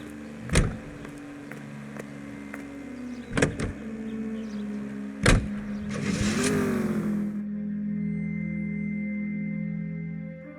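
Car engine idling and humming steadily while driving in LA Noire, punctuated by a few sharp clicks and a rising whir before settling into a low, even drone.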